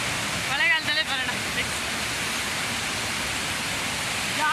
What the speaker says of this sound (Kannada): ಮಳ್ಳಳ್ಳಿ ಫಾಲ್ಸ್ ಚೆನ್ನಾಗಿದೆಯಾ?